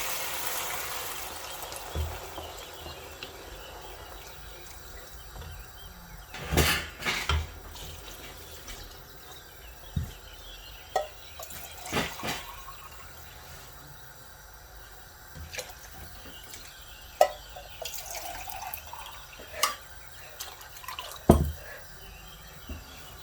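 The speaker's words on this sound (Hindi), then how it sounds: "तो इसमें मैंने ये 4 कैन पानी के ऐड कर दिए हैं" Water is poured into a pot of rice for Kabuli pulao, a soft running splash under a steady background hiss, broken by several sharp clanks and knocks of a can against the pot, nearby and moderate in level.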